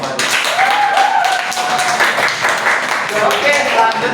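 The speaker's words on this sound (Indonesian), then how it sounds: "Tepuk tangan buat kita semua." A class applauds at the end of a lesson, with dense, continuous clapping filling the room at moderate loudness for several seconds and a few voices mixed in.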